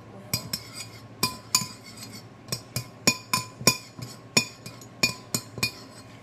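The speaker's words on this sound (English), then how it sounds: "Stir that so the crayons get all wet in the oil." Crayons being stirred in oil produce a close series of sharp, irregular clinks and taps of a utensil against the container, about a dozen quick hits with quiet gaps between them and no voices.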